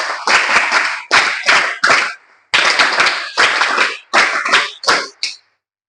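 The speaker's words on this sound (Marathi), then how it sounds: "जोरदार टाळ्या वाजून आपण त्यांचं स्वागत करूया." Several bursts of clapping from a school audience welcoming a guest at a new-student welcome event, about eight short rounds of brisk applause separated by brief pauses, close and loud.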